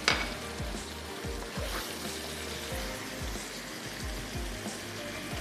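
Mustard greens with almond powder and green chillies being sautéed in a pan for sarson ka saag, giving a steady close frying sizzle with repeated low stirring knocks throughout.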